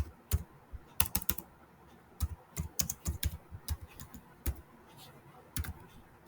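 Keys clatter on a computer keyboard while code is typed for an HTML and JavaScript lesson, sharp irregular taps in quick bursts with brief pauses, close and fairly quiet, no talking.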